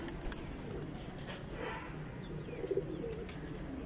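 Flying and breeder pigeons coo in a steady, low murmur, fairly faint and a little distant, with a brief louder burst near the end.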